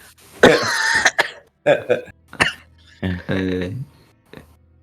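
A few harsh, broken coughs and throat-clearing bursts close to the microphone, in short uneven clusters with brief pauses between them.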